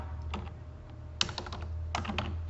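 Computer keyboard typing while a chain-lock description is entered into SAP procurement software: a few short bursts of clicky keystrokes separated by pauses, close by, over a low steady hum and with no voices.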